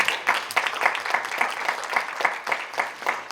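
An audience at a book presentation applauds, a dense patter of many hands clapping with a steady pulsing swell, fairly close and continuing for the whole stretch.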